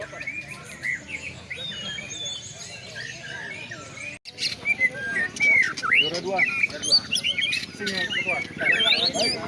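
Oriental magpie robins singing at a songbird contest, bright rapid whistles and chirps repeating over crowd murmur, a brief dropout midway, then louder more active song with a voice speaking over the birds.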